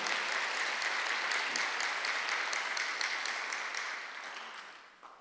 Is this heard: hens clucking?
no